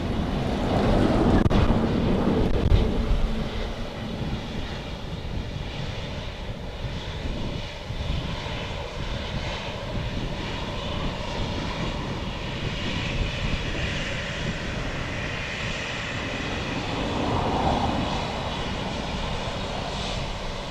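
Steady, continuous jet engine roar of an aircraft landing at Dublin Airport, broad and sustained throughout, with some wind rumble on the microphone.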